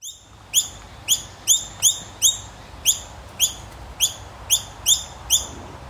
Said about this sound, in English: Another bird sound I shared at the beginning of the episode is that of the noisy myna